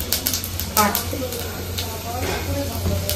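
Mustard seeds and dried red chillies crackle and sizzle in oil in a kadai at a busy fair food stall, a steady hiss under nearby voices talking.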